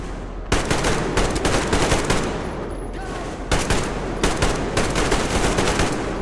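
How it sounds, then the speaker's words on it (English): Sustained machine gun covering fire in Metro Exodus, long rapid bursts of automatic shots with a brief pause near the middle, loud and close with no talking. "Covering fire for the Colonel."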